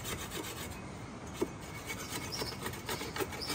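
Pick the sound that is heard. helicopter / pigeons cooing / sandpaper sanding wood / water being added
sandpaper sanding wood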